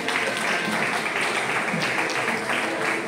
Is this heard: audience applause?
yes